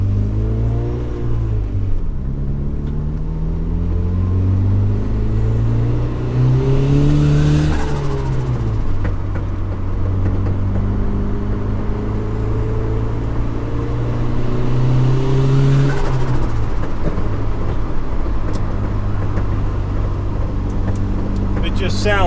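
Turbocharged Honda Civic running a stock ECU, heard from inside the cabin as the engine revs up and shifts repeatedly, with turbo whoosh swelling over a loud, continuous drone and some clunking.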